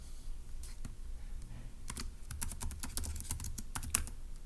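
Quiet, uneven typing on a computer keyboard, irregular clicks in short flurries with a faint background hum and no talk.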